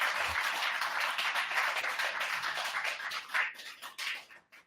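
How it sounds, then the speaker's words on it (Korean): Steady applause from a forum audience welcoming a speaker, a dense even clatter of many hands, fairly close and alone, thinning out and ending in a few last claps. "여러분 큰 박수 부탁드리겠습니다."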